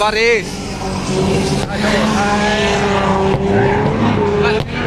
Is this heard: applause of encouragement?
no